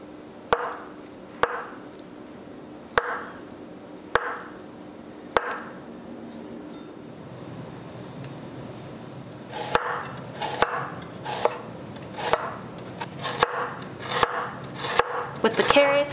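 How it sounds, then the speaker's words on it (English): A knife chops green onions and tofu on a board, starting with sparse, crisp single strikes and turning into a quicker, denser run of close taps with light scraping. "I'm cutting up some extra green onions for our egg omelet later"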